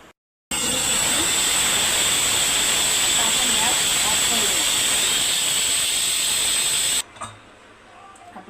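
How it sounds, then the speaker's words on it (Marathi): A pressure cooker making matar pulao on the stove gives off a loud, steady hissing whistle of escaping steam for several seconds. It then stops abruptly, leaving quiet room sound behind. "कुकरमध्ये पुलाव छान होतो मटार पुलाव दोन शिट्ट्या द्यायच्या"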